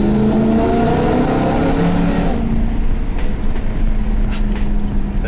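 A nearly warmed-up BMW M3 engine revs loudly up close with strong droning tones, then drops to a lower, rougher idle-like rumble for the rest.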